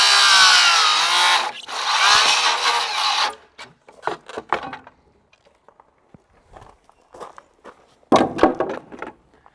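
Power saw cutting wood framing at a window jamb in a post frame workshop under construction: a loud, sustained buzzing cut for about three seconds, then scattered knocks, taps and handling noises, and a final short burst.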